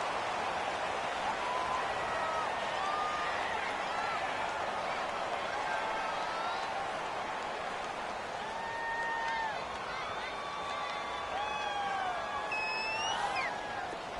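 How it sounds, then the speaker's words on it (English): Stadium crowd noise in a PS4 football video game set in a domed stadium: a dense, continuous roar with rising and falling cheers and whistles, under a commentator's voice. "The crowd here in the Dome making things difficult."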